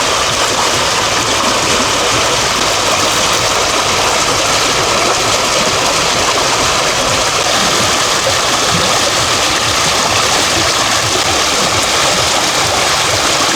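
Rushing water of Camurong Creek pours in a loud, steady broadband wash with no pauses, close and continuous.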